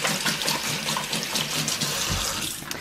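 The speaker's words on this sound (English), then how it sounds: "let me just wash my hands quickly" Water from a kitchen tap splashes steadily into a sink as hands are rinsed while barbecue chicken is prepared, a continuous close hiss and patter lasting a few seconds.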